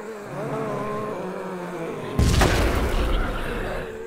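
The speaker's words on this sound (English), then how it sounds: "Let's throw a grenade out there for good measure." A grenade blast in a zombie sandbox video game: after a quiet stretch of steady background hum, a single sudden loud boom bursts out and rumbles away over the last two seconds.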